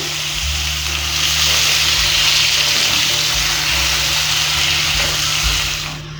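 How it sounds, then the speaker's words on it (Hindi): 200 grams of boneless chicken fry over medium heat for a shawarma sandwich, giving a steady, close, continuous sizzle that holds evenly throughout with no voices. "आप मीडियम आग पे चिकन को पका लेंगे।"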